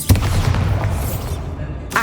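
A Bombarda spell blast in the video game Hogwarts Legacy gives a sharp booming burst followed by a rumbling, crackling tail that fades, then a brief second pop at the end.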